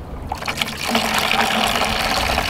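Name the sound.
fuel pouring out of gas can without cap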